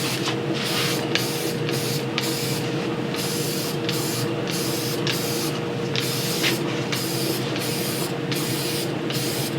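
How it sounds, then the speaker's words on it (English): A spray gun hisses steadily and loudly in a workshop where saddle finishing work is underway, with a constant mechanical hum beneath and repeated short breaks in the spray as the trigger is worked. "when you do a lot of spraying, these things are pretty nice"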